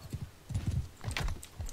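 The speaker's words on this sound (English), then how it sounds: "I'm bringing a horse to somebody if anybody wants it." Horse hooves clip-clop in a rapid, uneven gallop during a Bannerlord skirmish battle, fairly close, with faint keyboard-like clicks in the background.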